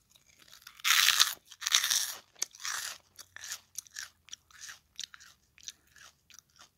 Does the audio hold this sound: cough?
no